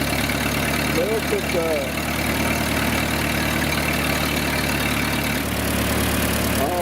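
A 1911 Buick brass-era car engine idles steadily close by, a dense, even mechanical chug that runs throughout, with people talking over it.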